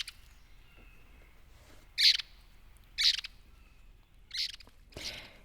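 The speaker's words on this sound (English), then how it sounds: "here is another much different vocalization from the eastern wood pewee" Eastern wood pewee giving an unusual call, four short sharp chirps spaced about a second apart, clear and fairly close against a quiet background.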